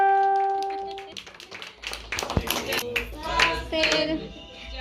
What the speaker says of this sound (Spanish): Un fuerte aplauso. Aplausos.